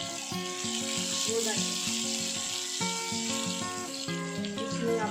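Two small chopped onions frying in a pan with aubergine and potato, a steady hiss and sizzle running throughout beneath background music, with a brief spoken phrase.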